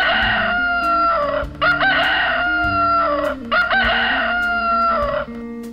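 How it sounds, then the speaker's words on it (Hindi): A rooster crows loudly and close by, giving two long, full cock-a-doodle-doo calls back to back over a low musical backing. "मुर्गा कैसे बोलता है"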